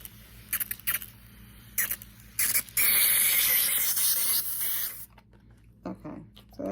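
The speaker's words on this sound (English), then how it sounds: "Okay, so that's all I wanted to do was mist the top." A handheld spray bottle mists the top of a garden plant pot: a cluster of short hissing pumps, then a longer sustained spray, close and fairly loud, followed by a few quieter handling sounds.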